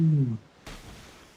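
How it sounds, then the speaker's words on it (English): A short splash in the Dragon Quest 9 video game: a tonal sound cuts off, then a sudden broad watery burst follows and fades over about a second. "Splashed."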